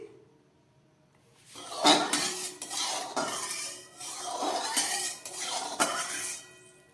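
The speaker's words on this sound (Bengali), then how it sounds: "একটা কড়াই বসিয়ে দিয়েছি, কড়াইটা গরম হয়ে গেছে। আমি দিয়ে দিচ্ছি তেল, সর্ষের তেল দিয়ে দিচ্ছি।" Mustard oil poured into a heated wok, giving a swelling hiss in several waves, with metallic clinks and scraping of a utensil against the pan at close range.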